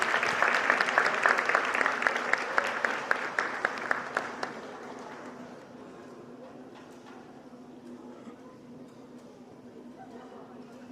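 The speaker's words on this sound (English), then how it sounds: "Let's give another round of applause for these citizenship winners." At a school's eighth-grade awards assembly, an audience claps for citizenship award winners: dense, lively applause for about four seconds, then it thins to scattered individual claps and fades into quiet room noise.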